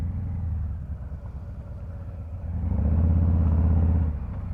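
A Harley-Davidson Fat Boy 114 with an aftermarket exhaust idles in a deep, throbbing rumble, then swells louder as the revs rise for a couple of seconds before settling back, heard close with no talk.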